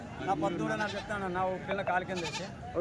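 Goats bleat repeatedly at a busy weekly goat and sheep market in Kadiri, with several wavering calls overlapping amid a crowd of people talking nearby.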